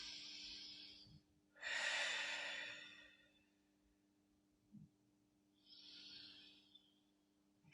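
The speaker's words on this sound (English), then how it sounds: "Extending that exhalation." Slow breaths during a weighted hip exercise: a long, airy exhalation, a quieter pause, then another soft, drawn-out breath, close and quiet.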